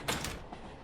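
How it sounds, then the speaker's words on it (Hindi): A train carriage door slides open on its own, a short close rumbling slide with a brief scrape that fades into the cabin's background hum. "ओए वो दरवाजा अपने आप।"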